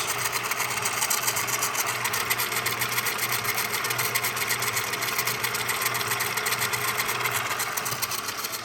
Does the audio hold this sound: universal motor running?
yes